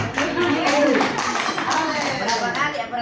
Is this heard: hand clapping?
yes